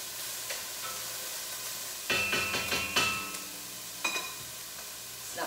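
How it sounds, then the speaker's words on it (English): Soup ingredients sizzle and crackle in a pot over a low-medium flame, a steady close frying hiss broken by a few louder bursts of stirring and spitting. "You can hear it sizzling in there."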